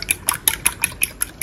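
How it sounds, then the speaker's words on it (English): A spoon stirs red bell pepper sauce in a pot, about eight quick, evenly spaced scraping clinks against the metal, close and fairly loud with no talking. "Let's mix in our sauce."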